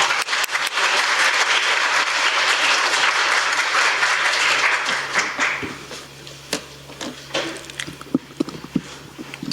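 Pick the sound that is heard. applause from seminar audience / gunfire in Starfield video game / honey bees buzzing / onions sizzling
applause from seminar audience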